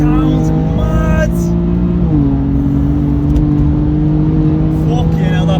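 Stage 1 BMW M4 making 500 BHP under hard acceleration, a loud, close engine drone rising in pitch, then a gear shift and a sustained pull, with speech over parts of it.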